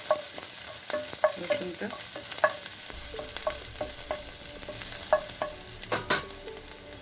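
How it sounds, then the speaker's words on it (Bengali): Thinly sliced garlic being stirred in a frying pan, a steady soft sizzle with repeated light scraping and clinking of the utensil against the pan, close by; a few words are spoken briefly. "এখন একটু নেড়ে দিচ্ছি"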